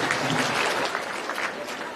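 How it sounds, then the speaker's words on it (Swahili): Audience at a public cultural event in Turkana applauding, a dense wash of clapping from a crowd, steady and fairly loud throughout the brief moment. "Tumpigie makofi tena tafadhali."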